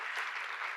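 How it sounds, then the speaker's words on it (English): Short burst of steady group applause at a budgeting class, people clapping together for a presenter, dense and even throughout with no talk over it. "Let's clap hands for him again"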